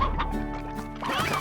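Chickens in the Slime Rancher video game cluck and squawk steadily throughout, several birds overlapping in a busy, close, fairly loud flock chatter with no talk.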